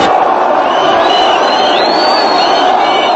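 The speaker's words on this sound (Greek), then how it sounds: "Με ζητοκραυγές και χορούς υποδέχθηκε το πλήθος στην πλατεία Ταχρίρ τη λακωνική ανακοίνωση του Αντιπροέδρου Σουλέιμαν" A huge crowd in Cairo's Tahrir Square roars with cheers and whoops at news of Mubarak's resignation, a loud, continuous wall of voices with a few shrill whistles rising above it.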